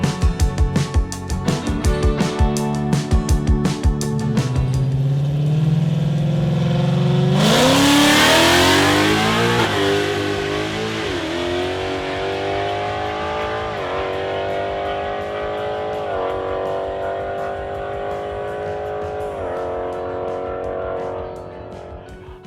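A 2024 Ford Mustang Silver Bullet 2.0 running on a drag strip with a 305 rear tire. The engine revs loudly at launch, then pulls hard through a series of rising, stepped gear changes, staying close and continuous throughout.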